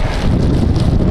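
Strong wind at Edinburgh Airport in light rain, buffeting the microphone with loud, continuous low rumbling gusts close up.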